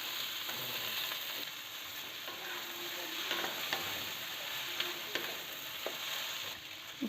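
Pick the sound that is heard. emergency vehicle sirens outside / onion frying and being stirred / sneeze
onion frying and being stirred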